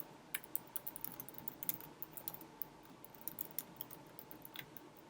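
Steady, faint typing on a computer keyboard: a quick, irregular run of light key clicks continues throughout with no talking.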